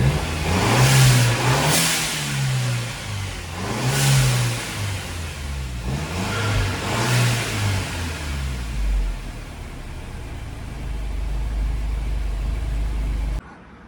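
Audi engine fitted with an eBay turbo, revved in several swelling bursts, each rev ending in a hissing blow-off valve release, close and loud, then settling into a steady idle.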